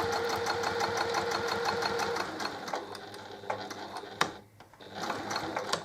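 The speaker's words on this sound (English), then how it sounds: "I'm going to fold that flat, and I'm just going to stitch" Sewing machine stitching folded fabric for a fabric dish, running in a steady rapid mechanical chatter, then slowing with a click and pause before resuming, close and clear with no talk.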